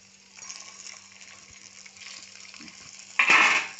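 Sabudana appe batter sizzles softly in an appe pan, a faint frying hiss that swells into a louder burst of sizzle near the end, close by with no voices.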